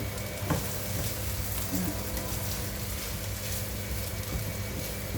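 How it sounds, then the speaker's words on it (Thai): Rice with Chinese sausage being stir-fried in a pan, giving a loud, steady sizzle with occasional scraping and clinks from stirring, heard up close. "ผัดเป็นแบบว่าให้มันหอม"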